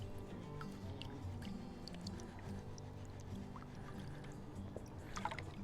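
Gold pan full of paydirt being tilted and washed with water, a steady low wash and slosh with occasional light splashes and grit clicks, brighter trickling near the end.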